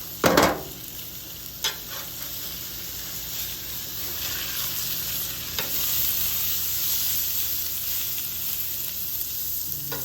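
Red drum fillets fry on a hot Blackstone griddle, giving a steady close sizzle. A sharp scrape and a few brief clicks from a spatula are heard near the start.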